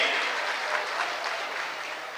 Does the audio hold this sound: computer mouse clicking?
no